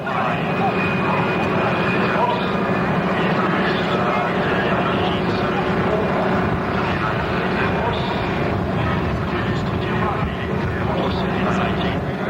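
An A-10 jet taking off at the 1993 South Weymouth air show: a loud, steady, broadband jet engine roar with a high whine that holds throughout, as people talk nearby.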